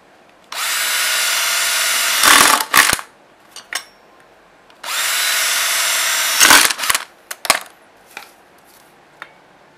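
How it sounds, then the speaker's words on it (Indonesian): A saw cutting through the back of a piece of scrap metal for an alcohol cannon: two sustained, loud grinding cuts of about two seconds each, each followed by a scatter of clattering metallic knocks. "nanti bagian belakangnya ini digergaji sampai bolong"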